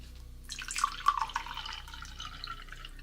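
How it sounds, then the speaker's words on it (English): Hot dog water is poured into a container nearby, a soft splashing trickle with a few bright drips that fades into a quiet running flow under a low background hum. "Here's you some more hot dog water"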